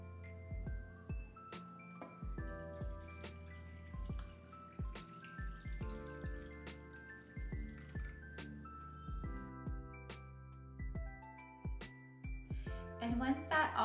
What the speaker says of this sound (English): you're going to strain the pigment through the coffee filter and sieve.